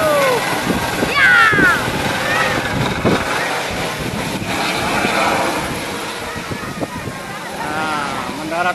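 A helicopter in flight gives a steady, loud engine and rotor roar that fills the whole stretch, with people talking over it.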